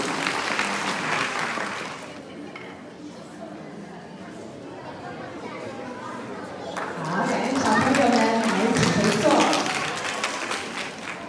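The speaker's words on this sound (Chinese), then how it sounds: "请大家给他们最热烈的掌声" An audience applauds prize winners at a school graduation ceremony, a broad, sustained wash of clapping that swells near the end, with a voice speaking over it.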